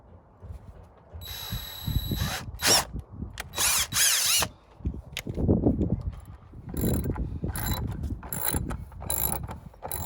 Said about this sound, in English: I just need to drill into this plastic piece right up there.